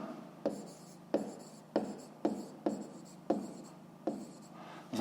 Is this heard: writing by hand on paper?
yes